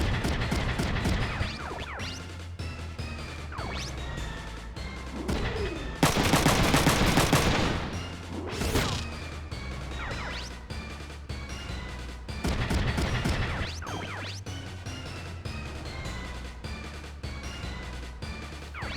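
Gunfire in the mecha combat game Front Mission 3: loud bursts of shots, with one dense barrage in the middle and scattered rapid volleys around it, close and heavy.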